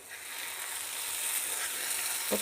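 Prawns with chilli and curry leaves pan-fry in hot oil, a continuous close sizzle that swells slightly and ends with a brief scrape as they are turned.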